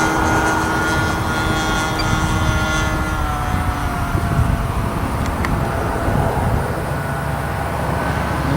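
A 60 size Reactor RC biplane climbing at full throttle, its model engine droning loud and steady throughout with a constant high-pitched whine and no talking.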